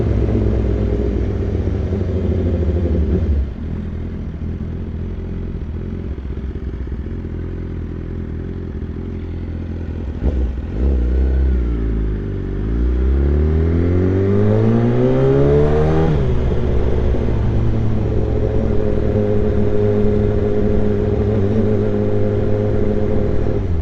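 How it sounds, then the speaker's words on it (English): BMW S1000RR motorcycle with a full Akrapovic exhaust riding at night, its loud engine droning steadily, then revving up and down through the gears with rising and falling pitch, the exhaust echoing off walls on either side. "the exhaust tone is resonating off the walls"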